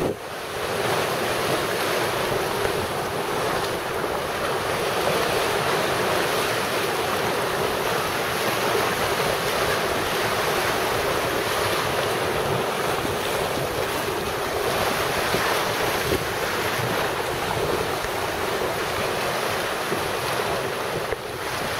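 Sea waves roll onto Falasarna beach on Crete, a continuous close roar of surf mixed with heavy wind buffeting the microphone, with no voices.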